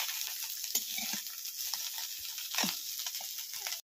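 Onion frying in hot oil makes a constant bright sizzle, with soft stirring scrapes now and then, close and uninterrupted until it stops abruptly.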